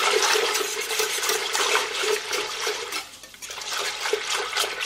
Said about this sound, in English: I am just going to put 1/3 of a cup of it in. And then I'm just going to stir it in really good.